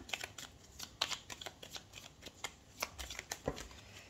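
Tarot cards shuffled and handled in a quiet room, a steady run of soft, crisp riffling flicks and slaps, close and alone with no talking.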